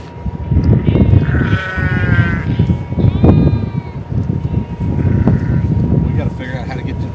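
Sheep on a ranch bleat repeatedly in loud, wavering calls close by, several overlapping, mixed with people talking.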